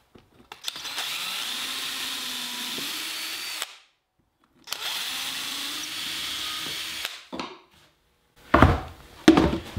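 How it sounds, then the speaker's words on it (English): A drill drives 1 5/8-inch stainless steel trim screws through cedar boards into a cabinet, two long steady whirring runs separated by a pause, followed by short bursts and knocks, close up with no talking. "I'm attaching the cedar to the cabinet with 1 5/8" stainless steel trim screws"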